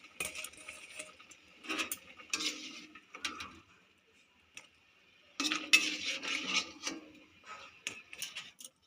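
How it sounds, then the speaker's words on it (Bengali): A strainer clinks and scrapes against a cooking pot in short, irregular bursts with quiet gaps as boiled vegetables for Bengali shukto are lifted out, close by and fairly soft. "আমি এবার এটা আস্তে আস্তে এই ছাঁকনিটা দিয়ে তুলে নেব।"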